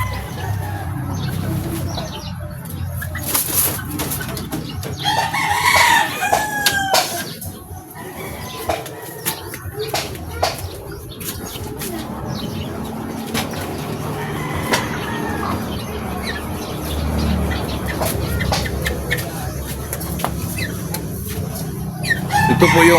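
A gold-colored backyard breeding rooster crows repeatedly amid clucking fowl, with bursts of wing flapping, all outdoors and fairly near, and faint voices in the background.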